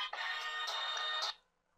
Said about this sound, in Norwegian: Beklager det, telefon.